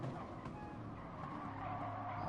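Race cars in Gran Turismo Sport, an FIA GT championship online race, braking hard into a corner with tires skidding, a steady loud engine and tire roar running throughout.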